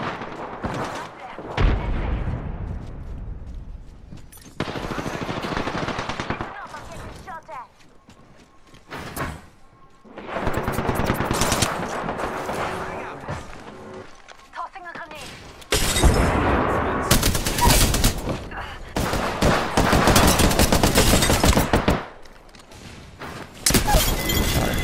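Gunfire and explosive bursts from a PS4 shooter game in a containment fight, loud repeated volleys and booms in irregular clusters, with a player talking over much of it.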